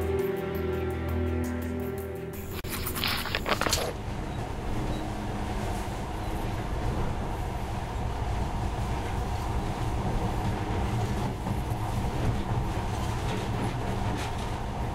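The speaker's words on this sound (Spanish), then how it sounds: "Pero ahora este monorraíl parece hasta mágico" Monorail train running in the video game Metro Last Light, a continuous rumbling rail drone with rattling and clattering, steady and loud throughout after a brief burst of other game sound at the start.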